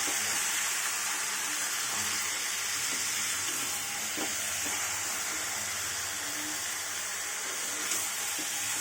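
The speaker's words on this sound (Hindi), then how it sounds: "सब चिकन गुडा को ऐड करना ऐड करके अच्छे पूरा मिक्स करबे कसिबा" Chicken pieces fry with onions in a pan for an Odia chicken kasa, giving a steady soft sizzling hiss with a few faint crackles and stirring clicks.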